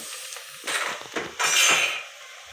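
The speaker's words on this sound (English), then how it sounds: "at this point I'm going to add in my diced sausages" Diced sausages dropped and scraped into a pot for sausage pilau, a few close clattering rustles and a louder burst of sizzling sputter that fades back to a low cooking hiss.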